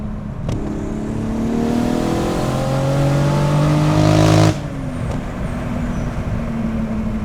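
VW Corrado engine revving up toward the top end, climbing for several seconds and then breaking up and dropping off abruptly, heard from inside the car without talk.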